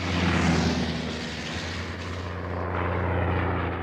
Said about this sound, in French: Charles Godefroy décide un geste insensé, passer avec son chasseur un Nieuport sous l'Arche.